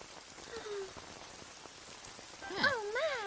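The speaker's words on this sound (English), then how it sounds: "When will it stop raining?" Steady light rain patters softly in the background of a cartoon, while brief high voices and squeaky calls rise near the end.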